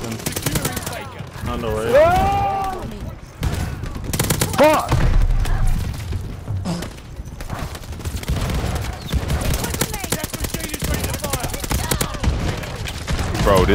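Bursts of shotgun and rapid gunfire in a shooter video game, with repeated sharp blasts and thumps running throughout while players talk and shout over the action.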